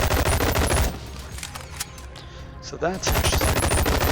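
Gunfire from a blue two-handed ranged weapon in a video game, rapid bursts of shots at the start and end with a quieter gap between, under a voice.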